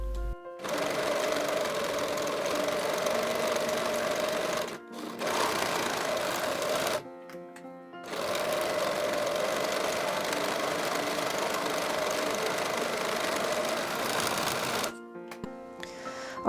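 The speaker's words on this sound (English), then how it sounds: "And these will then get stitched together." A sewing machine runs steadily, stitching sweatpants pocket pieces together. It goes in long continuous bursts with a few brief pauses, a close, even mechanical whir with no talking.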